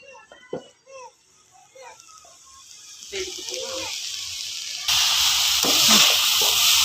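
Banana flower is stirred as it fries in a pan for a banana flower and drumstick leaf poriyal, a steady sizzle that grows louder and fuller partway through, after a stretch of talking.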